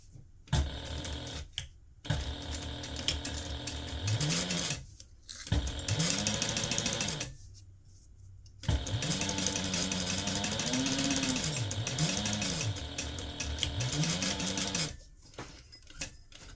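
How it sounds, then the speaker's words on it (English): A sewing machine stitching the seam of a fabric gift bag, close and fairly loud, running in several bursts that speed up and slow down, with short quiet pauses between runs. "we are going to sew this using a 1/2 inch seam allowance"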